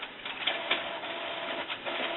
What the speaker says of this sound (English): It'll start to print in a minute.